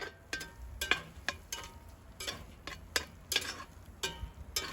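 Cheesy bacon potatoes au gratin cooking in a Dutch oven, giving off a low simmering crackle with irregular sharp clicks and scrapes, moderately quiet and close, with no talk.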